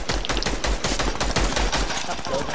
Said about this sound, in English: They're spamming with P90.